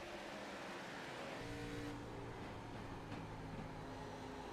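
A race car in an ARCA Series video game race at Kentucky Speedway, engine droning steadily with a constant high-pitched whine and a slight shift in tone midway, no voices over it.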